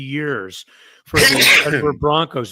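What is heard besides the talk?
sneeze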